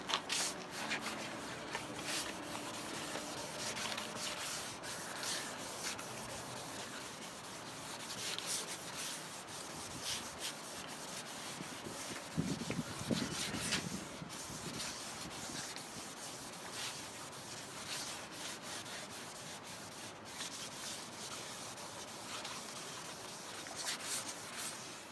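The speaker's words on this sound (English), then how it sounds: "I'm going to hit it with slightly finer sandpaper," Headlight lens being hand-sanded with finer-grit sandpaper during a restoration, a steady soft scratchy rubbing that continues for the whole stretch with a slightly louder burst midway, close and alone with no talk.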